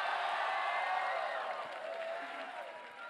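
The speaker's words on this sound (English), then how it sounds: "give a big round of applause for 8th Spring Fest" Festival crowd applauding and cheering at the opening of a spring fest dance competition, a dense wash of clapping with whoops and shouting voices layered on top, sustained for a few seconds and easing slightly toward the end.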